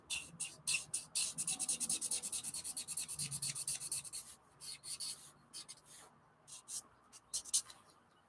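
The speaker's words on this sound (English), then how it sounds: "Maybe if I worked with the chisel tip, I think I could get it to smear a little," A marker's chisel tip scratches and smears across paper while blending a drawing, with quick rapid strokes early on that turn into slower, softer rubbing, close and quiet.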